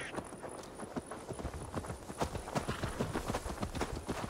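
Horse hooves clip-clopping in the video game Assassin's Creed Valhalla, a quiet, quick, steady run of hoof strikes over a faint background hiss.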